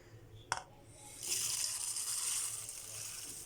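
Warm or cold water is poured onto whole-grain oats in a bowl after a sharp click, a steady splashing gush filling the container at close range.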